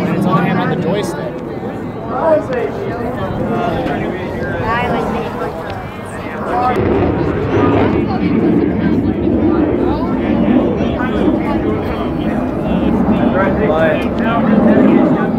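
An F/A-18F Super Hornet roars through an air show demonstration at NAS Oceana, a steady, loud broadband jet rumble that swells and holds throughout, with a crowd chattering and people talking nearby.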